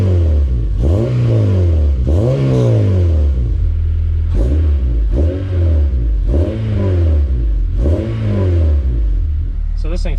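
An 8th gen Honda Civic Si with a light flywheel revs repeatedly, about six quick blips rising and falling close to the microphone, loud and sharp, while someone talks over the engine.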